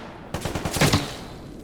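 A quick burst of automatic gunfire in Stalker Gamma, about five or six rapid shots close and loud, trailing into a fading echo, with no speech.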